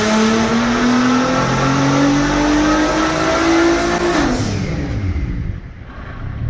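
A tuned Nissan GT-R R35 with no muffler revs on a dyno, a loud, raw engine roar whose pitch climbs steadily for about four seconds, then drops off as the throttle lifts and the note winds down.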